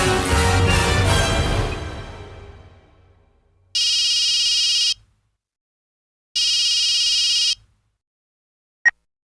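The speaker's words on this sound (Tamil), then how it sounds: "ஒருவேளை மாதவி ஃபோன் பண்றாளோ?" A phone rings twice in a quiet room after a louder stretch of sound fades out. Two bright electronic ring bursts of about a second each are separated by silence, and a brief click follows.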